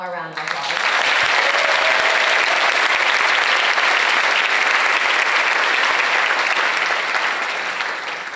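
A school audience at a Latin club ceremony gives a loud, sustained round of applause that swells in and holds steady for several seconds, a brief voice at the start before the clapping takes over.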